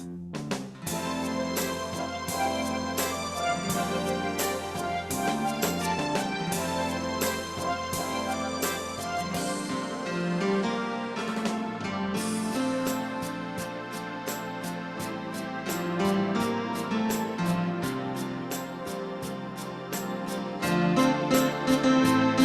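Lowrey Marquee electronic organ plays a busy chordal part over a steady programmed rhythm accompaniment of bass and percussive beats, continuous and fairly loud for over twenty seconds.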